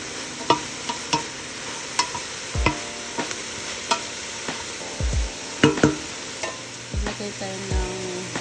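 Turkey and chestnuts frying in a pan, a gentle sizzle under irregular knocks and scrapes of a utensil stirring, with several heavier thumps.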